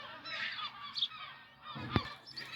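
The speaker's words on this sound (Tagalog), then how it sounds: "Balikan natin yung mga ibon guys. Ang ingay nila guys." Geese honk noisily in a home garden, several loud nasal calls in quick succession followed by a sharper single honk, fairly close.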